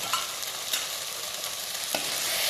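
Chicken perattu with curry leaves and coconut oil sizzles steadily in a pan while a spoon stirs through it, scraping a few times over the continuous loud frying hiss.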